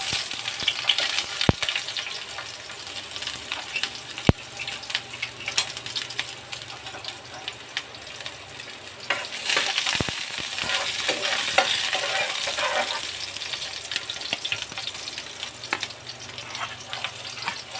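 Onion frying in cooking oil for a tambakol (tuna) steak dish, a steady crackling sizzle with occasional stirring clicks, moderately loud and continuous throughout.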